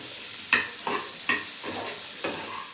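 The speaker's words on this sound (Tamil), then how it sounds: "இந்த ரெண்டு நிமிஷம் நல்லா கிண்டி விடுவோம்" Chinese potatoes (sirukizhangu) being stirred in a hot pan with a spatula, a close sizzle with about five regular scraping strokes, no talking.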